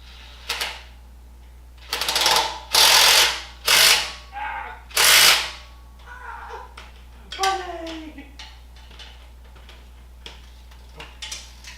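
An impact wrench drives bolts while a firewood processor is being built, firing several loud close bursts in quick succession, followed by quieter clanks and handling noise in a workshop.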